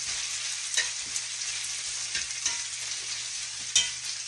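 Bacon and onions frying in a pan, a steady bright sizzle with occasional louder pops and stirring scrapes, close and continuous with no voices.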